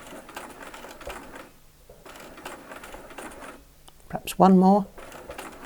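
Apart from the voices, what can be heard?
sewing machine stitching the final stitches of a quilt star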